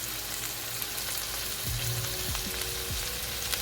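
Olive oil heating in a pan gives a steady, crackling sizzle close by, with a few low thumps and scrapes partway through and no speech.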